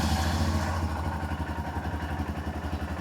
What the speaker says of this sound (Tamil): எப்பவுமே வண்டியை காலைல வந்து நீங்கள் ஸ்டார்ட் பண்ணும் போது ஒரு தடவை ஸ்டார்ட் பண்ணிவிட்டு